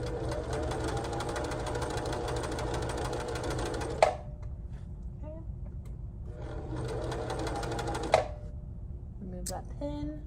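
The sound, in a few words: sewing machine sewing a waistband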